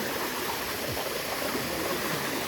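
Water bailed out of a small pond to catch fish pours and flows in a steady, rushing wash that holds even and continuous throughout, close by and fairly quiet, with no voices.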